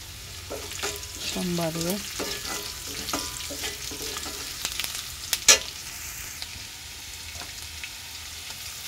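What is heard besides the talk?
cumin seeds sizzling in hot oil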